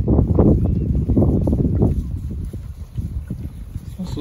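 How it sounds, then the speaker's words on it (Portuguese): Wind blowing across an open farm with a horse and livestock nearby, a steady broadband rush roaring near the microphone throughout, with voices heard faintly underneath. "Esse vento aqui tá deixando a criação toda assustada."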